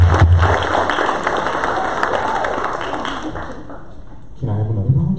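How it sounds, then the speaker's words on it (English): An audience at a food and agriculture panel forum applauds a volunteer, sustained clapping from many people in a hall that fades toward the end before a low voice briefly returns. "give her a round of applause."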